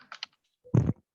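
A computer keyboard gives a few quick light clicks, followed by a heavier, louder key press, close and isolated with silence around it.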